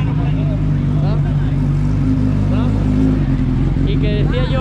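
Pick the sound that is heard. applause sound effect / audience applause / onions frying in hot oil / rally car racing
rally car racing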